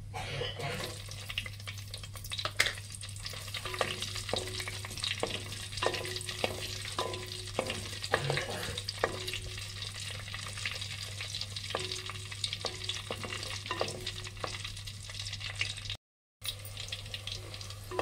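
Steady sizzling of green chillies frying in hot oil for a fish curry, with occasional stirring clinks and scrapes, close and continuous with a low background hum.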